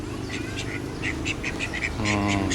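Many ducks quack in quick, overlapping bursts at a public park in Hat Yai, a busy chattering flock close by with a low hum underneath.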